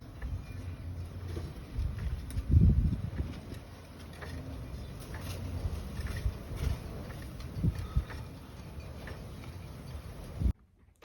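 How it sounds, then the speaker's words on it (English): A winter storm blows snow around outside on a dark night, a steady gusty roar with buffeting against the microphone that continues throughout, then cuts off abruptly. "It's dark, snowy, wind blowing everywhere."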